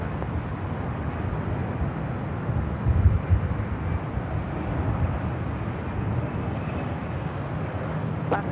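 A Southwest airliner lands on runway 24 right at Los Angeles International Airport, heard as a broad, steady jet roar that swells slightly and holds loud throughout.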